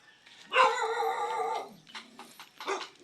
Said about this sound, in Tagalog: Nagagalit yung aso.